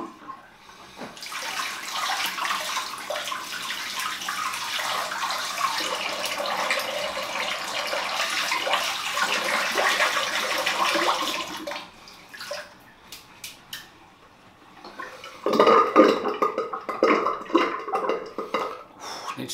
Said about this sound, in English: Bit of water.